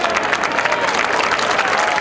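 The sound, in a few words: crowd applause at a lacrosse game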